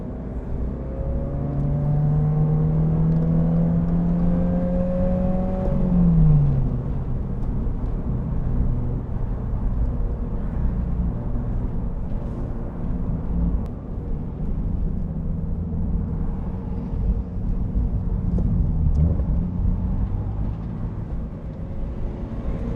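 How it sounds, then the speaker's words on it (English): A Subaru BRZ/GR86 cruising on a highway beside trucks, with a steady droning exhaust and road rumble. A rising then falling engine tone sounds early, followed by a constant whirring hum. "Exhaust just echoing off these trucks."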